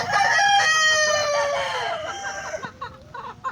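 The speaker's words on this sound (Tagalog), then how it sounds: "So ito mga ka-farmers yung isa sa mga asil natin na broodcock" Asil broodcock rooster, about two years old and kept for breeding game fowl, gives one loud, close crow that trails off into a few low clucks.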